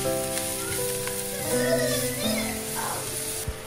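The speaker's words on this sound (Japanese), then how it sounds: "硬いごぼうを嫌がるので、我が家は煮ながら炒めてます。" Burdock root sizzles in a pan as it is stir-fried while simmering, a soft steady crackle with light stirring noises and a voice faintly in the background.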